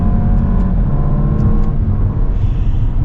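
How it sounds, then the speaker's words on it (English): A 2020 Range Rover SV Autobiography's V8 engine accelerating, a loud, deep, rising roar heard from inside that holds steady and then eases toward the end, with no talk. "Well, yes, it does honor the SV name with ridiculous V8 sounds and ridiculous V8 power."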